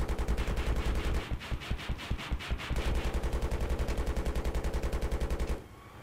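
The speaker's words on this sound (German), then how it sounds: "Tank ballert noch." Rapid automatic gunfire from a tank in Battlefield 3 on Wake Island rattles in fast, evenly spaced bursts that continue loudly for several seconds before cutting off abruptly near the end.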